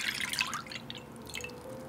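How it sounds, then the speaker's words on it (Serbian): Lukewarm milk pours into a small bowl, a soft, faint liquid trickle and splash that is strongest at the start and then thins into a quiet, steady pour. "Sipat ću u vanglicu."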